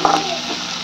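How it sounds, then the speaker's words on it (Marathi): Onion and chili roast in a hot pan, giving a brief, steady sizzle and frying hiss, close and fairly loud. "कांदा आणि मिरची आता कलर चेंज होते, बऱ्यापैकी ते भाजायला आलंय."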